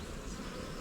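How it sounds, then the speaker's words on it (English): Honeybees buzz in a dense, continuous drone around an opened hive during an inspection, close and fairly loud with no pauses or voices. "These are the bees that got a bit too excited"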